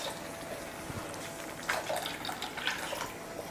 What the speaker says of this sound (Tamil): மிக்ஸி ஜாரை கழுவி தண்ணி சேர்த்துடலாம்.